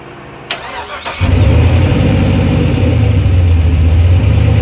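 A car engine fitted with a Holley Terminator X cranks briefly, then catches and fires, settling into a loud, steady, rumbling idle close by.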